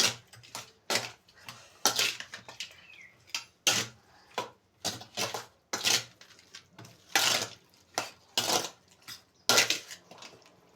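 A spoon scrapes and clacks around a bowl as food is mixed by hand, a quick irregular run of close, sharp strokes with no voices.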